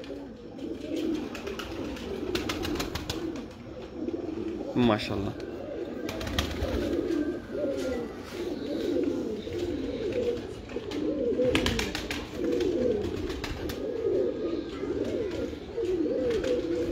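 Kamgar pigeons coo repeatedly in low, throaty, rolling phrases, close by and steady throughout, while someone talks over them and occasional rustles and flaps break in.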